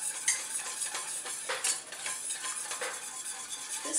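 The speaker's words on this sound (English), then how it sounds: "I'm going to shake some of that flour into the pan, stirring to incorporate." Flour is stirred into melted butter in a pan to cook a roux, a close, continuous sizzle with soft, repeated scraping of the utensil against the pan and no voices.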